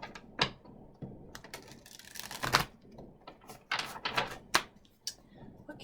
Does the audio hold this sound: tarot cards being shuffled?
yes